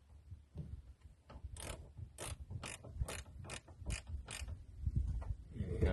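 A nut being tightened with a spanner during a battery change on a Mercedes gives a quick run of sharp ratcheting clicks over faint low mechanical rumble, close and fairly quiet.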